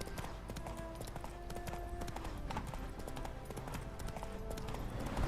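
Horse hooves clip-clopping steadily in the video game The Witcher 3: Hearts of Stone, a quiet, even walking rhythm of repeated hoof strikes over faint ambient background.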